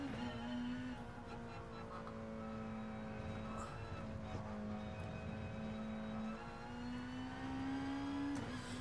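Super GT GTR race car engine in Gran Turismo Sport holds a steady drone, with pitch rising and dropping as it shifts and accelerates, continuous and moderately loud.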